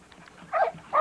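A dog named Mercy barks in a kennel yard, two short close barks about half a second apart following a few faint softer sounds.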